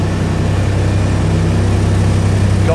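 A boat engine jammed at high revs by a stuck throttle drones loudly and steadily, a constant low, thrumming roar with no letup and no talking.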